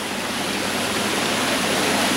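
A fish tank filter keeps water circulating with a steady, broad rushing splash, like a small waterfall, close and continuous with no voices.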